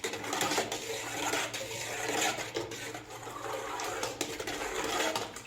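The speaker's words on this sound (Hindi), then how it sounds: "हमने इसको अच्छी तरह से मिक्स कर लेना है बेसन को।" Gram flour batter is mixed in a bowl with a continuous wet, sloshing swish that runs steadily throughout at close range.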